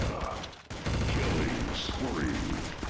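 Rapid pistol fire from Dual Berettas in the video game Counter-Strike: Source, a dense stream of loud, overlapping shots dominating the clip, with a voice speaking underneath.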